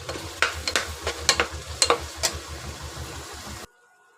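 Spices such as coriander powder and nutmeg powder being stirred in a pan while making spicy pulao: close, rhythmic scraping strokes over a low frying sizzle, about eight distinct strokes before it cuts to silence.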